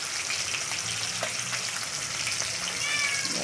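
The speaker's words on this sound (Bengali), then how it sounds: "ভালো করে উল্টিয়ে ভেজে নেব" Chicken and potato pieces sizzle and fry in a pan with a continuous, close hiss. Faint clinks come from the pieces being turned.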